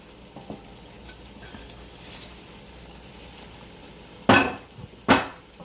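Shrimps and a Maggi cube drop into a hot frying pot, setting off two sudden loud sizzles that flare and fade after a quiet stretch of faint kitchen clatter.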